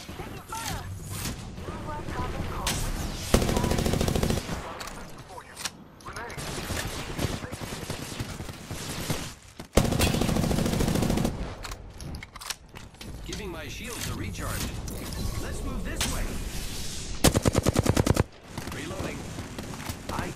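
Bursts of gunfire from an enemy squad in the battle royale game Apex Legends crackle in dense, repeated volleys over steady game sound, loud and close, with several sharp rapid-fire stretches.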